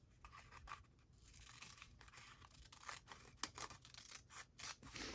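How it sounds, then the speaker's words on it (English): Scissors cutting paper for a junk journal craft: repeated quick snips and crisp paper rustling, close and quiet, in an irregular rhythm. "I can use scissors for that."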